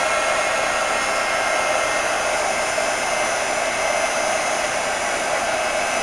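A hair dryer blows steadily and loudly at close range while paper carnations are heat dried, a constant even whoosh with no pauses and no talking.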